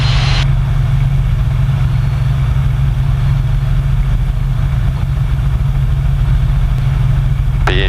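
Helicopter engine running steadily in flight during a pilot-for-a-day experience near Québec, a loud continuous low drone with a constant throbbing hum, no talk over it.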